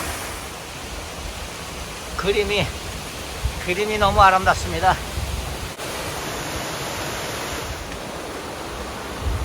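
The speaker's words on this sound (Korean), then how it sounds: "이게 천당폭포죠." Cheondang waterfall roars steadily in a deep V-shaped gorge of Seoraksan National Park, a constant rushing wash. Someone speaks briefly over it.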